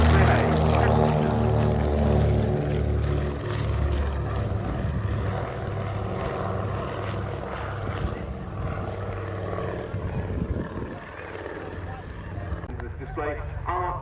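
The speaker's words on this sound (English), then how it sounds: "we see it here in amphibious guise, getting airborne, the consolidated" A Consolidated amphibious flying boat takes off at RAF Cosford Airshow 2024, its piston engines droning loud and steady with a rich throbbing hum that slowly shifts in pitch as it climbs, while a commentator talks over it.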